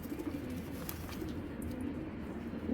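Giribaj pigeons cooing softly in a loft, low murmuring coos running steadily throughout under a faint background hiss, with no talk.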